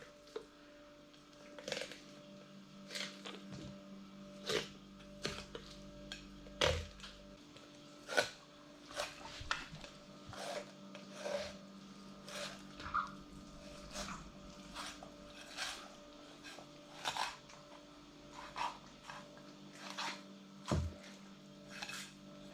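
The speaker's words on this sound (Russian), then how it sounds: "располагаем сазанчика поудобнее и начинаем отделять мясо от хребта" A knife fillets a carp, separating the flesh from the backbone in a series of soft scraping strokes and clicks against bone at irregular intervals, close-up and fairly quiet.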